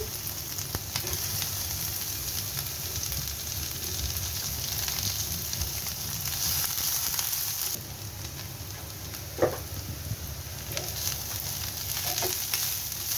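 Chopped onion, with ginger nearby, frying in hot oil until browned, a steady dense sizzle throughout with a few faint clinks of a utensil against the pan.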